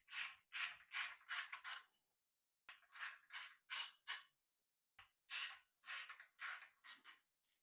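A stud extractor spins carburetor studs out of a 1966 Lincoln Continental 462 MEL engine. Three quiet runs of rapid ratcheting clicks are separated by short pauses, with no voices.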